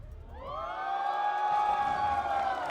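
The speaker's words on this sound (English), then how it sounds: "You can listen to the crowd right now after those comments." An esports arena crowd at the Honor of Kings World Championship semifinals rises into a loud, sustained roar of cheering and whooping that swells and holds steady throughout.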